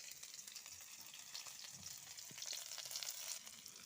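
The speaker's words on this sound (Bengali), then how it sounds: "পেঁয়াজ কুচিগুলো খুব ভালোভাবে লাল লাল করে ভেজে নেব" Chopped onions sizzle and crackle in hot oil, a steady frying hiss with small pops, close by and without any talking.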